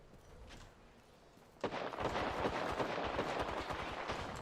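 Rapid bursts of gunfire in the video game Apex Legends break out abruptly after a quieter opening and continue as loud, dense, overlapping shots and impacts until the end.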